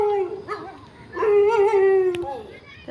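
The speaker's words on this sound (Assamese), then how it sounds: "এইকেইটাই ভুকিছে" A dog howls and yips in drawn-out, whining tones at close range, with a brief sharp knock near the end.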